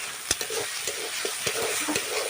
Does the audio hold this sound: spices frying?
yes